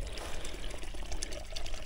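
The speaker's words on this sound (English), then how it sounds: "And water running along the ditch." Water runs steadily along a ditch beside a cornfield, a continuous close trickling and pouring wash with no talk.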